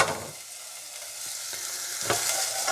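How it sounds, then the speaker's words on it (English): Onions fry in a pan while being stirred, a close sizzle with scraping and tapping of the utensil, a louder scrape near the end. "Okay, so the onions are in."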